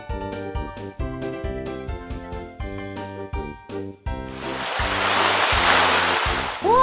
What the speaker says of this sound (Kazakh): О, су бұрқақ